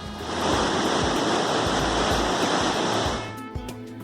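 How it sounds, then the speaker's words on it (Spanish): A powerful waterfall on the Arazas river in Ordesa roars steadily nearby, a dense rushing wash of water that fades slightly near the end. "las aguas blancas del río Arazas se descuelgan tumultuosamente"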